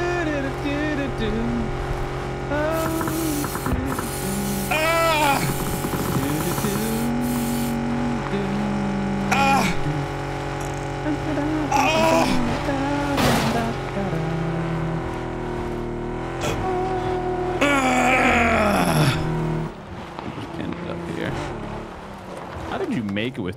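A car in PUBG drives along a road with two tires missing, its engine droning and revving steadily throughout, with pitch swells and occasional bumps, under frequent talk from players.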